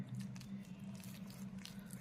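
Henna powder and water are stirred into a paste in a bowl, giving soft, wet, squishy smearing and faint clicks at a low level, continuous and close.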